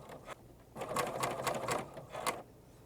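A sewing machine stitches fabric for reusable makeup pads in quiet, short bursts of rapid, even needle clatter, with brief pauses between runs.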